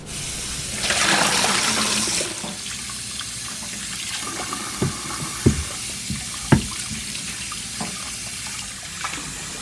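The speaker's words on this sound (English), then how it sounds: "Rinse each bone 3 times under cold tap water to remove impurities." Cold tap water runs steadily into a sink while hard pork bones clunk and knock against each other and the basin as they are rinsed.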